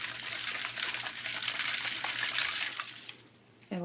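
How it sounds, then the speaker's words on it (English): Salt and water sloshing inside a lidded bottle as it is shaken, a steady churning wash of liquid that runs without a break for several seconds, then stops abruptly near the end. "Give it a good shake."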